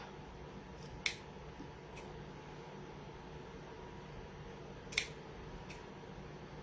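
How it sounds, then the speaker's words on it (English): Scissors snipping ribbons for a horse-themed door knob hanger, two sharp distinct cuts several seconds apart, quiet and close over a steady background hum. "My ribbons are too long, so let me trim them up."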